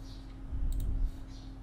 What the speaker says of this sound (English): So just double click it to extract this zip file.